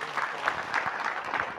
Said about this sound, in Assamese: সকলে হাত তালি মাৰিব লাগে।